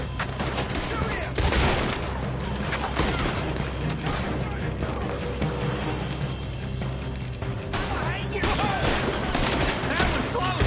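Dense video game gunfire from Red Dead Redemption 2 crackles continuously in overlapping volleys, loud and sustained, with hooves and shouted voices mixed in.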